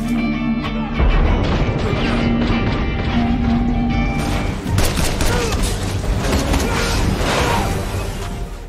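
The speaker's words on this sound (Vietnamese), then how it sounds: "tiếng súng inh tai đã vang lên khắp xưởng, đạn bay vèo vèo, vô cùng hỗn loạn" A warehouse shootout in an action film: dense, loud volleys of gunfire with a heavy crash near the start and an explosion from a blown gas canister midway, chaotic and continuous throughout.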